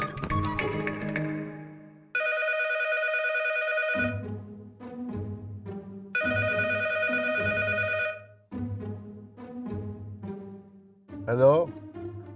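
In a Hindi TV comedy scene, a telephone bell rings twice in loud, trilling bursts, with people talking in the gaps between the rings.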